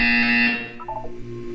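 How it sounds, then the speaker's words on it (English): A loud, steady electronic buzzer from the Portal 2 video game blares for about half a second, then gives way to a softer descending chime and hum. "You will hear a buzzer."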